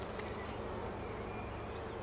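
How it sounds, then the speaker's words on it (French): Dense, steady buzzing of black honeybees (abeille noire) swarming at an open hive in spring, a continuous close hum with no voices over it. "Donc c'est de l'abeille noire"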